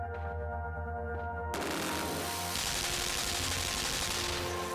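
Gunfire in the side-scrolling video game Limbo: a sudden loud burst of shots begins after a quiet droning stretch, then continues as a dense, sustained rattle over a low hum.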